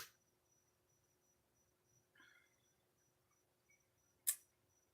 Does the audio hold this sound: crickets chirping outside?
yes